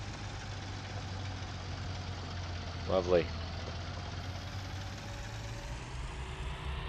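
A tractor engine idles steadily in Farming Simulator 19, a low continuous rumble throughout. Someone speaks one brief word partway through, over the engine.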